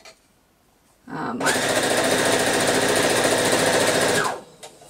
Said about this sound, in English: We're just sewing literally a mile a minute.